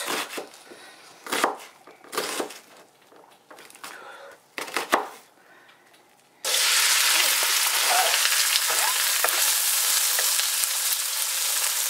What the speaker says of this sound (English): now we let the onions fry.